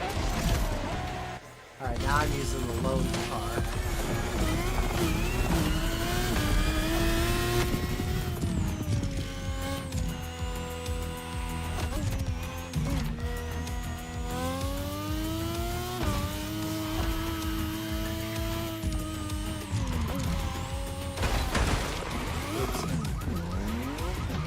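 A car engine revs and shifts through gears while driving in a video game, its whine rising and falling continuously with tire squeals, as people talk over it.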